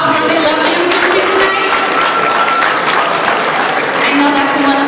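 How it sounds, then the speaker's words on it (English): A pageant audience gives a sustained round of applause, dense clapping filling the whole stretch at steady loudness, with cheers and voices mixed in throughout. "Let's give those ladies another round of applause."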